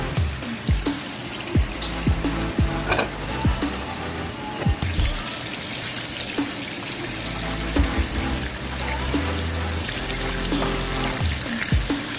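Turkey pieces frying in hot oil, a steady bubbling sizzle with scattered pops and crackles, fairly close and without talk.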